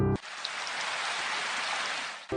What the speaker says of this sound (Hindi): जोर की आंधी तूफान और बरसात होने लगी।